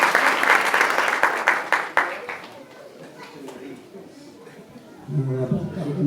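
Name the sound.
audience applause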